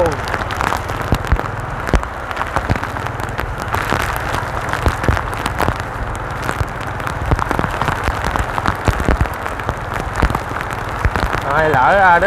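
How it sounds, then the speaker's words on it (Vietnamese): Heavy rain pours in a Saigon alley, a dense continuous hiss with sharp drops spattering on surfaces, loud and close, while a person talks over it. "mưa lớn luôn"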